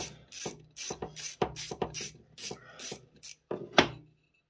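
Flat wrench unscrewing a crankcase bolt on a Peugeot 103 moped, heard as a series of close, rhythmic ratcheting and scraping metal bursts with short pauses, ending in one sharper scrape before silence.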